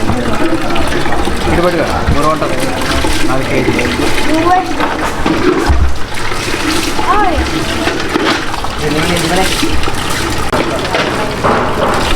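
Water pours and gushes in a steady, loud, continuous splashing stream for the whole stretch, with voices talking over it.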